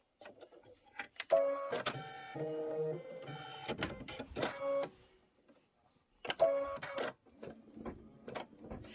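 Embroidery machine stitching out a design for a Kimberbell storybook pocket pillow, giving rapid mechanical whirring bursts with pauses between runs, moderately loud and close, with no talk over it.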